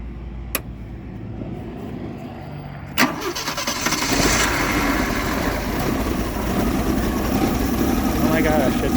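A car engine cranks and catches, then settles into a steady, rumbling idle that continues evenly after a few faint clicks.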